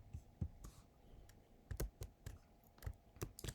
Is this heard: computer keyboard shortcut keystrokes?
yes